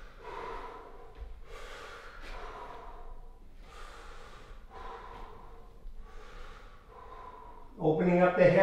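Slow, deep breaths drawn in and let out during a squatting hip and hamstring stretch, about six broad airy swells in a steady rhythm, close and fairly soft, with a louder rustle near the end.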